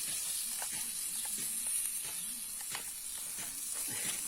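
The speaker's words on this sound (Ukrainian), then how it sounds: "От вам воно шкварчить уже сальце з цибулькою" Soft, constant sizzling and crackling of pork fat and onion frying in a compact pan, with occasional light stirring clicks.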